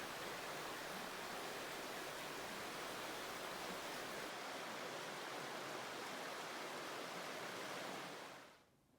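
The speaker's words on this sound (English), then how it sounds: "Maybe it's the sound of the water or the birds chirping." Steady, dense rush of a flowing creek, loud and unbroken, fading out abruptly at the very end.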